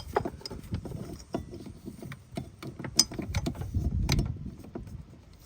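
A ratchet with a 12mm deep six-point socket and adapter clicks and clatters on an Acura MDX engine, a run of quick, close, faint mechanical ticks and knocks with no talk.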